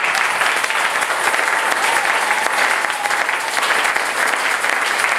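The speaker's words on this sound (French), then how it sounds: "Applaudissez pour le Seigneur." A church congregation at a French-language sermon breaks into steady, dense applause, a close and continuous clapping that holds at an even level throughout.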